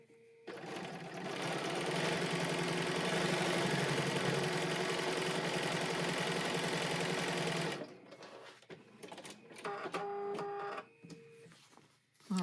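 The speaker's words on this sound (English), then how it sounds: "And then go ahead and sew that." Sewing machine stitching a paper-pieced sunflower quilt block, a fast, even mechanical whir running for about seven seconds, close and loud, then stopping and giving way to rustling and handling of paper and fabric.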